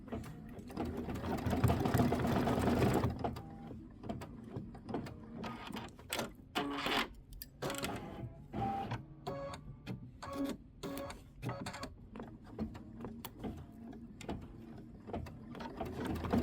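An embroidery machine stitches a Kimberbell ice cream cone design, with a loud continuous mechanical hum of needle strokes for a few seconds, then choppy stop-start bursts as it ties off and jumps between sections.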